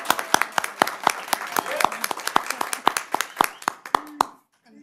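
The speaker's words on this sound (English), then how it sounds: "to give her a round of applause for all of her dedication and hard work to the district" A modest round of applause at a school district board of directors meeting, a small group clapping with distinct individual claps for about four seconds before it stops abruptly, with a voice briefly heard.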